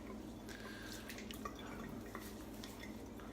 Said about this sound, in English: You see I'm rinsing off now.